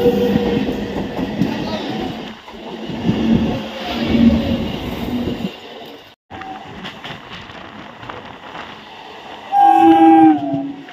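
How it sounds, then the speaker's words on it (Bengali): A local train pulling into Sealdah station rumbles loudly at close range and then goes quieter after a brief cut, ending with a loud horn blast. "ট্রেন দেখো এখন শিয়ালদা স্টেশনের দিকে ঢুকছে"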